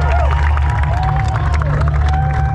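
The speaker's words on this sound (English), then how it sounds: "Give him a big applause." A large crowd at a Tough Mudder obstacle race in Austin claps and cheers steadily, with whistles and shouts rising over a dense, continuous roar of applause.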